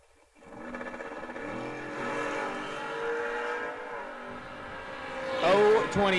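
A Ford Mustang and a fourth-generation Camaro race on a drag strip, their engines droning steadily and building to a louder, higher rev at the end, partly under a voice speaking.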